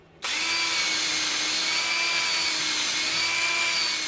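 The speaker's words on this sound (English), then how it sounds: "So I'm going to drill my hole." A power drill bores a hole into a wood slab, starting abruptly and running as a steady, loud, high-pitched whine with no talk over it.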